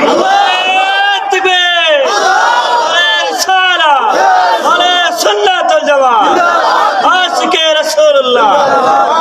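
At a Sunni religious gathering in Habiganj, a large crowd roars the takbir in response, loud massed voices shouting in dense repeated waves with no pause.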